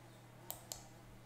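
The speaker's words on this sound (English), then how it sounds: "To clear the point, we right click" Two sharp, faint computer mouse clicks about a fifth of a second apart while editing in Lightroom Classic, in a quiet room with a low hum underneath.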